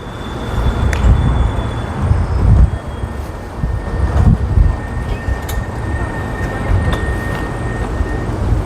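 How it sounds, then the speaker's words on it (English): Line 7 tram pulling into a stop in Sofia, a loud rumbling rolling noise with clanks and faint squeals, close by and continuous. "Oh, and there it is, line number 7."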